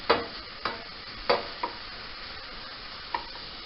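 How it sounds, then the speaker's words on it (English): Chopped onion sautes in a pan over a high flame, a soft continuous sizzle broken by a handful of sharp scraping stirs at irregular intervals, close and fairly quiet with no talking. "this is going to saute till it's nice and sweated at a high flame"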